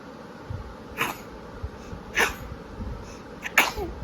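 A small child sneezes three times in a quiet room, sharp bursts spaced about a second apart, close and clear.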